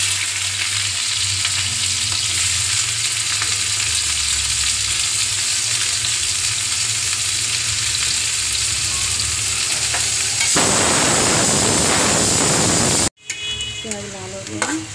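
Onions frying and being stirred in a pan for a white pea curry, a steady loud sizzle throughout with a burst of stirring and scraping near the end, no talking.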